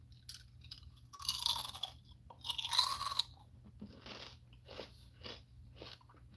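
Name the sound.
crunching Lay's kettle cooked original potato chips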